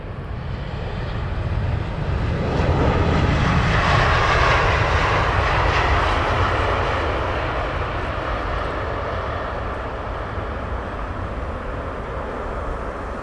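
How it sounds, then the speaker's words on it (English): A Ryanair airliner departing Heathrow Airport, heard as a loud, steady jet engine roar that swells in the first seconds and then holds as a broad rumble, slowly easing toward the end. "And get him departing. Ryanair."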